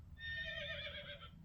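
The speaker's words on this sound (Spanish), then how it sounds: "El caballo dice" A farm horse lets out a single loud, quivering whinny lasting about a second, standing alone over a faint low rumble.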